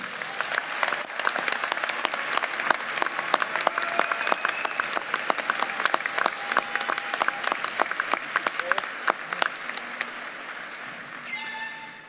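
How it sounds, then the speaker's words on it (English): Sustained applause from a commencement audience honouring graduates, dense and steady with individual claps audible, tapering near the end as a faint voice begins. "Please join me in another round of applause for our graduates."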